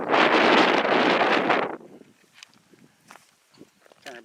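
Wind buffets an outdoor microphone at an off-grid site, a loud rumbling gust for the first second and a half, then dropping to quiet with scattered faint rustles and small knocks.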